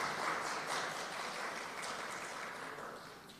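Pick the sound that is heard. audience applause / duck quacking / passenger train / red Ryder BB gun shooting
audience applause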